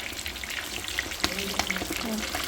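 Pieces of zander (pike-perch) fry in a hot pan, giving a close, continuous sizzle dotted with small crackles and pops. A voice is faintly present in the background.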